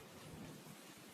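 Steady rain with a low thunder rumble in a cartoon storm, a continuous wash of noise holding at an even level for about a second with no voices.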